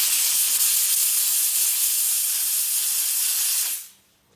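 Steam cleaner blasting a car interior, a loud, steady high hiss of jetting steam that holds for several seconds and then cuts off abruptly, leaving near silence.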